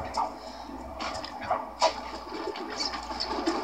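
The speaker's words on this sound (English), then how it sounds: "Birds!" Birds in the video game Sly Cooper 2: Band of Thieves give soft, scattered coos and flutters over a busy ambient game background with faint watery noise.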